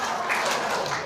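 Indoor audience clapping hands together at a laughter-therapy session, a brief dense burst of applause lasting about a second, loud and close, with faint voices mixed in.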